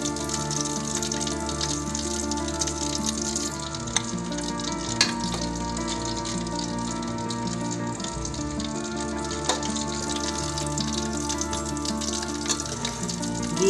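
Koftas frying in a pan of oil give a continuous, close, busy sizzle with a watery bubbling texture and occasional sharper pops.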